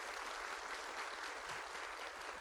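A church congregation at a music worship service claps steadily and continuously, a soft, even wash of applause with no voices standing out.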